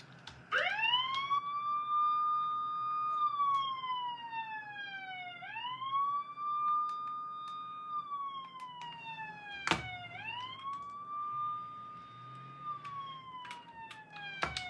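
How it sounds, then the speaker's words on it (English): An off-road ambulance siren in the BeamNG Drive video game wails in long rising and falling sweeps, loud and close, repeating three times with a brief clunk between cycles. "Got the off-road ambulance here."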